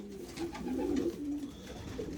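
A pigeon coos softly up close, low throaty murmurs over quiet background rustling.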